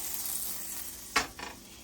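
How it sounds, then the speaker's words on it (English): Steady sizzling hiss of butter in a hot pan, with a sharper burst of crackling as shrimp lands in it, then settling back to a low fry. "Y'all hear that sizzle?"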